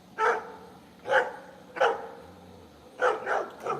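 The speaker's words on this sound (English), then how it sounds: "dogs are going to start barking." A dog barks six times in an irregular rhythm, with a steady low hum underneath and no one speaking.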